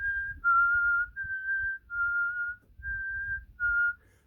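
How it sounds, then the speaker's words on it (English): A person whistles a test tone as a series of six clear, steady sustained notes, each about half a second long with short gaps between them, all near the same pitch, heard alone with a low rumble of background noise underneath. "we'll give a little whistle test"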